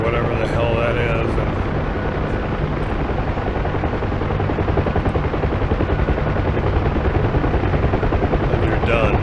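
Steady loud thrum of a Huey helicopter rotor and turbine in the DCS flight simulator, a continuous dense drone running throughout with no break.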